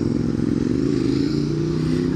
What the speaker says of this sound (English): Roll up on the Squidward. It's a Ducati 1198.